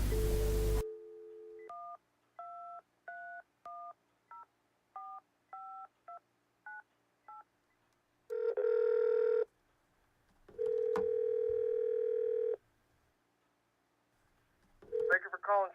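Touch-tone telephone dialing for a prank call: a short burst of dial tone, then a quick sequence of about a dozen clear DTMF beeps, followed by ringback tones and a brief voice at the end.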